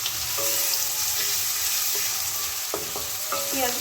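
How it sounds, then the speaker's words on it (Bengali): Chopped onions fry in oil for a Bengali prawn curry, giving a constant near crackling sizzle with a few sharp clinks of a spatula toward the end and no voices. "পেঁয়াজগুলো একটু হালকা ব্রাউন করে ভেজে নিতে হবে"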